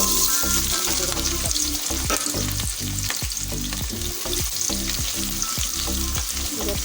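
Finely sliced onions fry in a pan of hot oil, sizzling loudly and continuously up close while being stirred, with irregular scraping knocks from the stirring.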